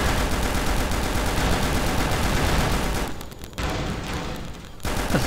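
Rapid, dense bursts of video game gunfire rattle continuously, with spent bullets heard falling to the ground and a brief break partway through before the shooting resumes.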